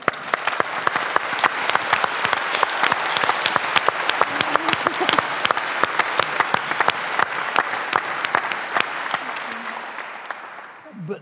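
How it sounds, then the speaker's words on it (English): Audience applause at an evening talk, a dense wash of many hands clapping near and loud for about ten seconds before thinning out at the end. "I'd like you to applaud her."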